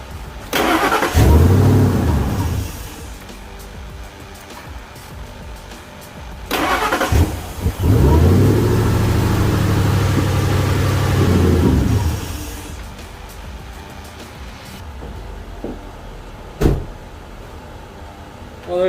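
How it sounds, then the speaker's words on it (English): A car with a newly fitted cold-air intake cranks and catches, then revs in a loud rising burst, settles, and is started and revved again at length before dropping to quiet with a few faint clicks. "Time to crank her up."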